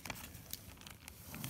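Seeds on a damp paper towel are slipped into a plastic bag, giving a soft run of quiet crinkles and light rustling taps close by.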